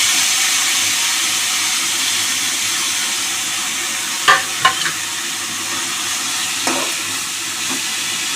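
A steady dry sizzling hiss from a hot pan roasting ridge gourd peels, broken by a few sharp scraping clatters as the contents are stirred.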